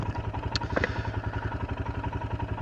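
A Royal Enfield Himalayan motorcycle engine, just after a relay replacement, idles steadily nearby with a fast even thump and a light metallic clatter, loud and with no talking.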